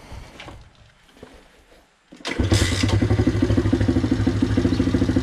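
A Loncin 110/125 single-cylinder motorcycle engine on a test stand cranks over after a few quiet clicks, catches and settles into a loud, close, steady idle with a rapid even thumping beat.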